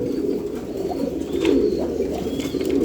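High-flyer Giribaz pigeons coo at a loft, with low, repeated throaty cooing close by and soft overlapping calls running steadily throughout.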